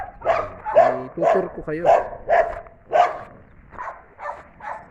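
A pedigreed dog on a farm that also keeps ducks and pigs barks in a series of sharp, evenly spaced barks close by, with a person talking over and between them.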